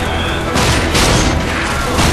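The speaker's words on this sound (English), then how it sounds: "The shotgun is a type of weapon that when you hit the fire button and point it at someone, you really want to feel that kaboom" Shotgun blasts from the video game RAGE, several heavy booming shots in quick succession, loud and close with a broad crashing burst and low thump.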